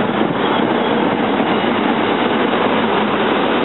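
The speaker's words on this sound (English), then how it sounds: "Just clear enough to catch the Bombardier set leaving." A Bombardier commuter train set departs the station with a loud, steady rumble of wheels and rail noise, heard close and continuous throughout.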